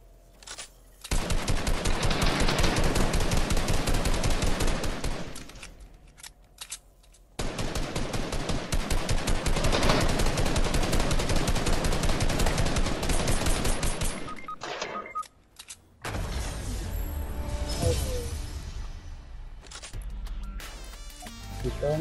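Rapid automatic gunfire in the video game Fortnite, long loud sustained bursts of fast machine-gun shots with brief pauses between them, followed by a messier stretch of shots and game effects, with voices talking over the action.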